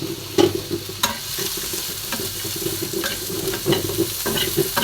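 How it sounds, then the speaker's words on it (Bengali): Carrots frying in hot ghee with a couple of onions for chicken biryani, a steady close sizzle broken by several sharp stirring scrapes and knocks of a spoon against the pan. "এই ঘি দিয়ে গাজরটা ভেজে আমি এই চিকেন বিরিয়ানির উপরেই দিয়ে দিব"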